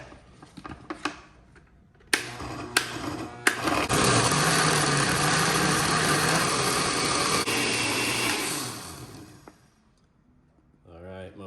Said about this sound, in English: now I'm going to blend